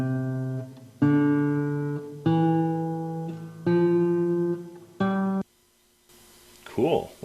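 Recorded early-music clip of sustained tonal notes in separate phrases, each held about a second with a reverb tail trailing off. It ends in a pause and then a brief gliding sound.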